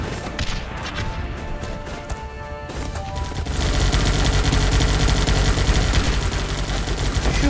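Gunfire in the video game Guns Up!: dense, rapid volleys of shots and bursts crackle continuously, growing louder and heavier partway through, with a game soundtrack underneath and no clear talk.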